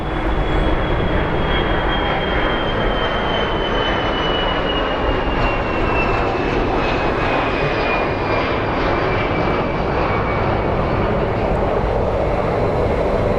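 A JetBlue jet at Phoenix Sky Harbor International Airport passes close and loud, its sustained engine roar joined by a high turbine whine that slowly falls in pitch, with no talking.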